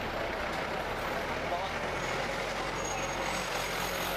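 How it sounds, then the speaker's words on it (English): A Routemaster bus with an open back passes on busy Oxford Street in London, a continuous heavy engine and road rumble amid traffic noise, close and steady, with a person talking over it. "There's a bus, Route Master with an open back."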